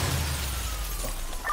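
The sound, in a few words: car crash in video game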